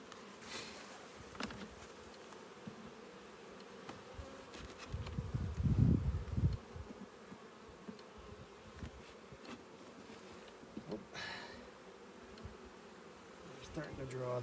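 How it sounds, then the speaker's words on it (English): Honeybees buzzing steadily around an open hive while a nuc is being hived, a dense insect hum that swells louder for a moment midway, with no talking. "it just helps manage flying bees"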